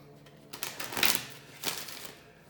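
Cards riffled and shuffled in a few soft bursts, close by, with papery flutters and no talking.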